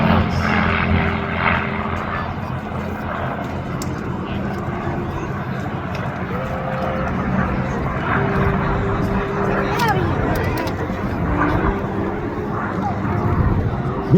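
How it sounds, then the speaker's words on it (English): Propeller engine drone from vintage aircraft, including a P-51 Mustang, circling in to land at an air show, a steady loud rumble that persists throughout with slight swells, while a commentator talks over it. "Vicky and Dan, both performing great for landing these two aircraft, will be coming back around and touching down here momentarily."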